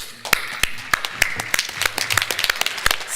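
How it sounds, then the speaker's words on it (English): A few board members clapping at a meeting, sharp uneven claps building from sparse single hits into a quicker scattered patter, fairly close with a faint voice underneath. "I want the board to stand and clap."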